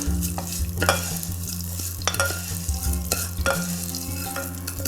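Vermicelli is stirred and toasted in a hot pan for Syrian rice, with steady sizzling and frequent scraping, clattering strokes of the utensil close by and no voices.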